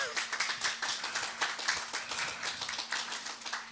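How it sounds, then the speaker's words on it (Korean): Audience clapping for a teacher welcomed on stage for a lecture at the foreign ministry annex, a steady patter of many hands at moderate distance, even and continuous for several seconds with a faint hum underneath. "박수 한번 주세요"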